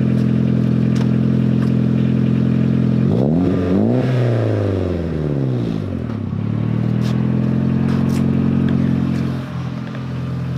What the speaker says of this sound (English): Just a quick rev.